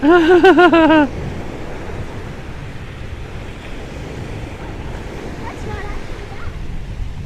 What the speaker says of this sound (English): I don't know if I can be heard over the wind, but we've made it to the North Sea.